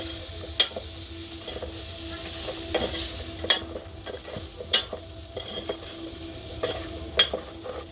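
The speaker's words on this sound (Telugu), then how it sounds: "ఒకసారి తిప్పుకుందాం బాగా ఏం చూడండి ఇందులో కారం వేస్తున్నా" Chili powder being stirred into a curry in a pot over a wood-fired stove, with soft scraping and sizzling from the pan and a few sharp clinks of the spoon against the pot at uneven intervals.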